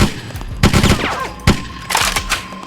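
Gunfire in the BloodRayne video game: several loud, sharp bursts and single shots cracking in quick succession, with booming impacts and whooshing effects between them.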